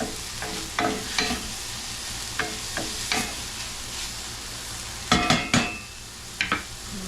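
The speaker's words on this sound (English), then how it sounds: "Once this has sauteed up a little bit here," Beans with bacon sauté in a skillet under a steady sizzle, punctuated by scraping stirs and clacks of a utensil against the pan.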